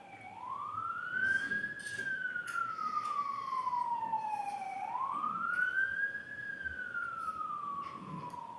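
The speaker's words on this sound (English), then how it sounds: "let me just let the siren move on" An emergency vehicle siren wails past outside a courtroom, rising and falling in two long smooth sweeps, loud and steady, with faint room noise beneath and no talking.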